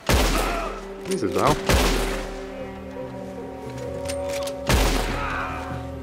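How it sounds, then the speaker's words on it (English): A guard fires a gun in Red Dead Redemption 2, with a few loud, sharp shots ringing out at intervals over game music while someone talks briefly. "Is he shooting at me?"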